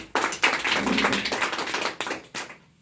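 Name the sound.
audience applause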